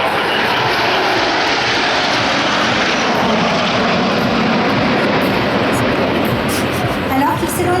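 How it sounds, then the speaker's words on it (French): Patrouille de France jets flying in formation at the La Ferté-Alais airshow make a loud, continuous broad roar that fills the whole stretch without letting up; a voice may be faintly present beneath the engine noise. "Athos 4, le commandant Declerc, va se glisser sur les autres avions afin de passer de la formation Losange à la formation Diamant."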